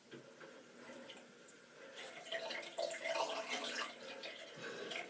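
Water trickles and splashes from a tap onto a Wilkinson Sword razor blade, quiet and close, swelling slightly midway with soft dripping textures and no speech.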